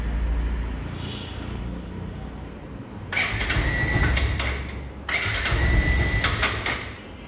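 A 2021 Bajaj Pulsar 150 motorcycle with about 17,133 km, in fresh running condition, is started up close by. Two loud bursts of cranking and firing break out over a low, steady background rumble.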